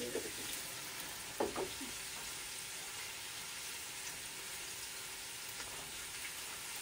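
Ginger frying in a non-stick pan makes a steady, soft sizzle with a couple of brief scraping stirs early on, close and even throughout, without talk.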